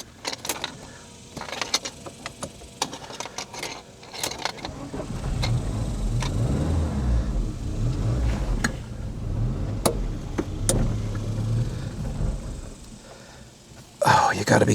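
A Saab car breaking down, its engine struggling with a low, uneven rumble for most of the stretch and sharp clicks and knocks over it, while a person talks throughout.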